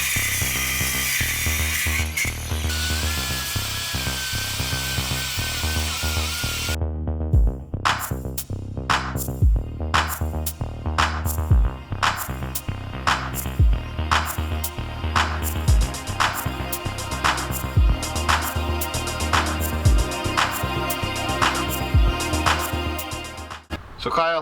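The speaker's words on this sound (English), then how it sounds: "we have to grind off that post in order to be able to fit the larger press-on pulley" Grinder cutting down a metal post on an engine so an Integrated Engineering press-on crank pulley can fit, a loud harsh whine first, then a rhythmic series of grinding passes, with music running underneath.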